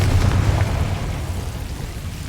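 A Confringo fire spell explodes in Hogwarts Legacy, a loud low rumbling blast that fades out gradually, with no voices over it.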